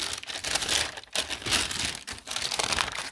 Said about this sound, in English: I keep these from the cereal boxes, those plastic bags.